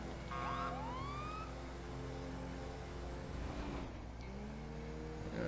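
A police siren wails and sweeps in pitch over a steady engine rumble, with electronic yelps partway through, in a game-like soundscape.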